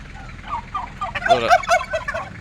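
Several white turkeys gobble in an outdoor garden, a rapid burst of rattling calls that swells and repeats over a couple of seconds, fairly close and clear with no talk.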